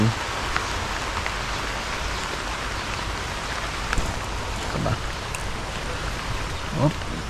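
Steady rainfall patters continuously, with a few louder drops and faint knocks now and then.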